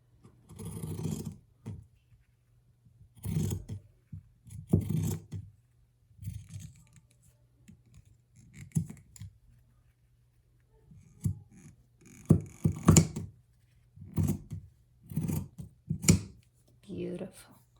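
Scissors snipping off trouser hem fabric during hand hemming, repeated short crisp cuts in separate bursts, close by, with a person talking between them.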